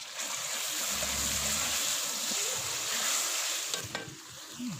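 Chicken pieces fry in a hot pan for a taro root and chicken dish, sizzling steadily. Spatula stirs and scrapes sound close by, with a couple of sharper clinks toward the end.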